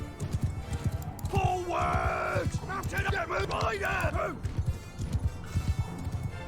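Horses gallop in the medieval battle game Mount & Blade II: Bannerlord, hooves clopping steadily with a whinny amid battlefield noise, while a voice shouts a command and speech continues over it.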